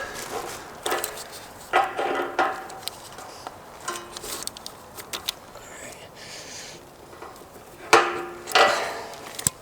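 Metal fittings being tightened on the hose that connects an RV's propane system to its tank, giving a few scattered clicks and knocks close by with quiet pauses between them.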